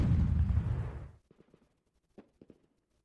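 In the Lock and Load Tactical Digital war game, a loud explosive blast booms and rumbles for about a second, then fades into a few faint scattered pops and shots.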